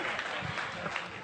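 Audience applause at a Hindi comedy poetry gathering (kavi sammelan) for Agrasen Jayanti in Kaithal, a steady dense wash of clapping filling the whole short moment, with murmurs mixed in.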